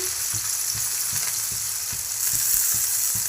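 Finely chopped onions sizzle in a pan for a bottle gourd kofta curry, a steady hiss under regular stirring scrapes, close and moderately loud with no talking.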